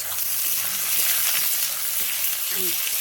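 Whole onions sizzle steadily in hot oil in a pan while meat is being cooked, a dense, close frying hiss with occasional faint stirring sounds and no talk.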